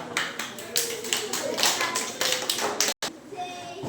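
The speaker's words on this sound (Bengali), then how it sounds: "হাততালি দাও একবার" Children at a school recitation celebration for West Bengal Day clap their hands in a quick, uneven burst of close, sharp claps. The clapping cuts off abruptly near the end.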